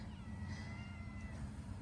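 A house cat meows indoors with a second cat nearby, the cries rising faintly over a steady low hum, fairly soft and drawn out rather than sharp.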